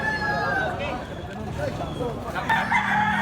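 A White Kelso gamefowl rooster crows loudly at a game farm, with other fowl calling and clucking nearby while people talk over the sounds.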